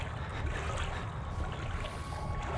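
Deep water in the Outlast horror video game, heard as a dense, steady, murky rumble and wash that fills the whole short stretch with no voices.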